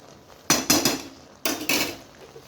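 Spoon stirring leafy greens (shak) in a metal cooking pot after salting, two quick groups of sharp scraping clanks against the pot, close and clear.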